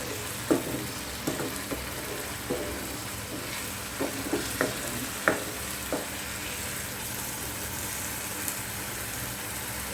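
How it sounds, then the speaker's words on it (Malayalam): Masala with peas, potatoes and paneer is stirred in a pan as ghee separates, giving a soft, steady sizzle punctuated by scattered spatula scrapes and taps at an unhurried pace. "ഇളക്കി കൊടുക്കണം."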